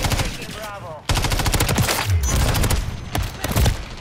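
Loud, close automatic gunfire in a video game, long rapid bursts kicking in after a short quieter opening and continuing with brief breaks.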